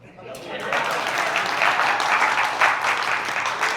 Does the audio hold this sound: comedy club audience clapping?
yes